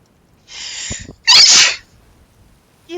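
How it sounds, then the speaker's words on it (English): A game character sneezes twice in Genshin Impact, two sharp bursts close together and loud, with a faint tail of other sound at the end. "I sneeze."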